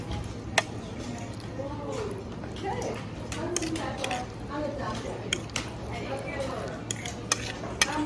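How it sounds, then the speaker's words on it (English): Utensil scraping and clinking against a bowl while meatball mixture is stirred by hand, with irregular ticks and a couple of sharper knocks, under a steady background hum and ongoing talk. "You mix all together"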